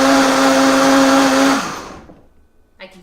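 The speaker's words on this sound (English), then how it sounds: "So put all that in the Vitamix." A Vitamix blender whirs loudly as it blends tomatoes for soup, a steady high-powered roar that winds down and cuts out partway through, followed by near silence and a faint brief rustle.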